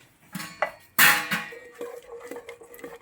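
A stick stirs lentil curry in a pan, with close clattering knocks and scrapes against the metal. One louder clank is followed by lighter, irregular taps. No voices are heard.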